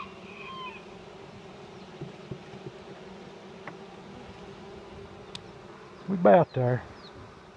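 Honeybees from a newly hived swarm buzz steadily and continuously inside the hive, close up, while a voice speaks briefly toward the end.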